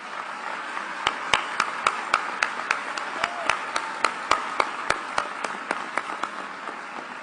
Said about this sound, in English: Join me in showing them appreciation with a round of applause.